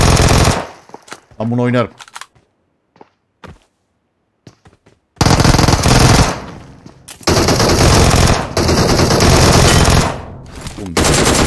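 Dense bursts of PUBG Mobile gunfire, loud and close, come in two long sustained volleys after a short opening burst, with a voice speaking briefly between them.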